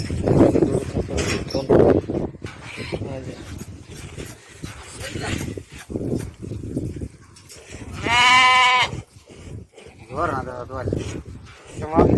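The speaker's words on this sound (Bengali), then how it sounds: "দুধের ছাগল এই যে এখানে ধরবে," Dairy goats bleat on a goat farm in Saudi Arabia, a couple of loud, close, wavering calls standing out among steady background talk and farm noise.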